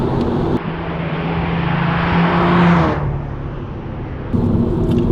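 A VW Golf R Mk7 engine roars up under acceleration with a synthetic induction growl, swelling louder mid-clip and then settling back to a steady cabin hum.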